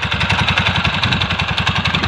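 A converted 49cc midsize pocket bike engine idles close by, chugging in a quick, even putter that holds steady throughout without voices.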